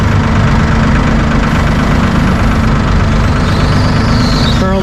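A Massey Ferguson 1E.40 compact tractor with its loader raised idles steadily up close, a loud, even low-pitched diesel rumble with no voices over it.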